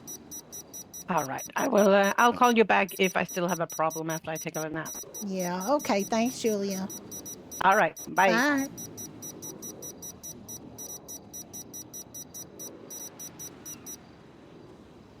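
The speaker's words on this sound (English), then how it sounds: "Sorry for the beeping." Steady electronic beeping repeats at a fast, even rate through a GTA V roleplay phone call, running under a voice talking and continuing alone after the talking stops.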